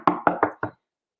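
An imitation of a pileated woodpecker hammering on an old pine tree: four hard, hollow knocks in quick, even succession, close and loud, then silence.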